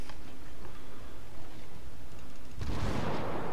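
Naval artillery booms in the World of Warships naval combat game: low rumbling battle noise with a soft ticking, then a loud broad blast of gunfire near the end.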